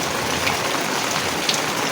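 Steady rain falling outside near a window where water gets in during rainstorms, a continuous dense hiss with a couple of faint drip accents and no talking.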